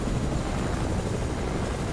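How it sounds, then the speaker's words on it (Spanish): A helicopter drones steadily overhead, a continuous broadband rotor and engine rumble at moderate level with no break across the short stretch. "Eso es un helicóptero."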